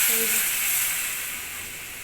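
Hot water poured into a pan of sizzling desi chicken curry cooked with sour yogurt: a loud, bright hiss and sizzle that bursts up at once and then fades steadily over about two seconds.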